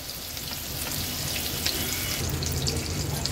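Lepa fish frying in oil over a medium flame gives a steady, close sizzle that crackles evenly throughout, with no voices.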